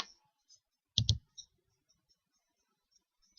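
Sharp mouse clicks in quiet, a close double click followed by a few softer scattered taps, made while inserting a text box in PowerPoint 2013.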